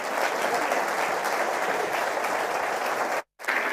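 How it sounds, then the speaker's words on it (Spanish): Applause from an audience at a corporate motivational talk, a dense steady wash of clapping at even loudness that cuts off abruptly near the end, then resumes briefly. "Un aplauso para Claudia, bienvenida."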